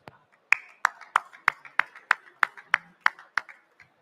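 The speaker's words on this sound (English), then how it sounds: "And for that, for you, a big round of applause." An audience at a crypto investors and collectors talk claps in a sparse, even rhythm, about a dozen distinct close hand claps spaced roughly a third of a second apart, with no voices.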